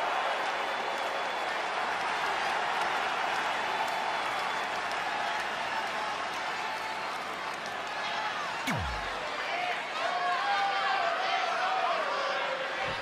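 A large video game arena crowd roars and cheers continuously, with a sharp descending whoosh partway through and faint voices underneath.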